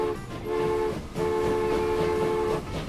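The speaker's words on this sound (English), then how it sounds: "And there was our lovely train." A train in the Transport Fever game rolls along with a steady rumble and a sustained horn-like tone that pauses briefly and then resumes, fairly loud throughout with no one talking.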